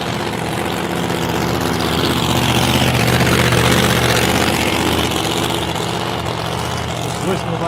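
A supercharged Hemi drag race car rolls back slowly after a 170 mph pass, its big engine giving a steady, loud, rumbling idle that holds evenly with a slight swell midway, with crowd and track noise around it.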